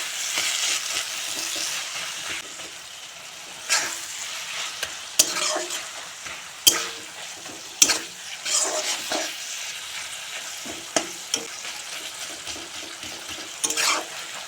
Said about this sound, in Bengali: এখন দিয়ে দেবো লাই পাতা দিয়ে আবারও মশলার সঙ্গে ভালো করে মিশিয়ে নেব।